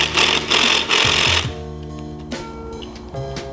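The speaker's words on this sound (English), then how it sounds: "So grab your 17mm impact" A 17mm impact wrench runs down the nuts on a Honda Ruckus scooter during a performance CVT transmission kit install, in three loud buzzing bursts followed by quieter whirring and short tonal pulses.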